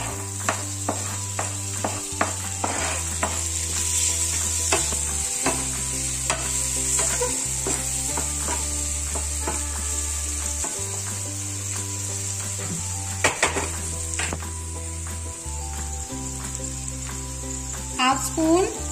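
Tomatoes frying in a pan for moong dal chilla, a steady sizzle under repeated stirring scrapes and clinks, with a low background hum shifting in steps and faint voices now and then.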